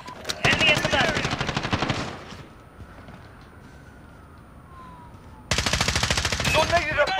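Modern Warfare online match gunfire: two loud bursts of rapid automatic fire, one at the start and one near the end, with a quieter stretch of ambience between them.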